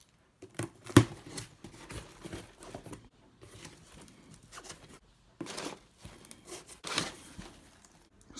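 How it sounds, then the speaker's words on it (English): Stuffing paper pulled from a Yeezy 350 V2 sneaker package, heard as bursts of close crinkling and rustling with pauses and one sharp crackle near the start, no voices. "let's take the paper out"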